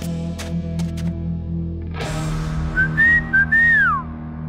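A cartoon songbird gives a whistled call, a few bright rising and falling chirps close and clear over a steady musical background, with no talk.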